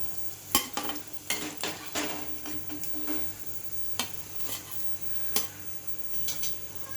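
Vadas fry in hot oil with a soft, steady sizzle, broken by scattered sharp clicks and scrapes of a utensil against the pan. Quiet and close, with no talking.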